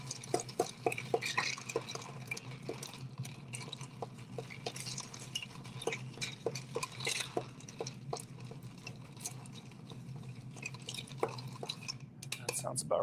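A bar spoon stirs a bourbon cocktail over ice in a glass, making steady light clinks and rattles of ice against the glass throughout, close and fairly quiet, with no talk over it.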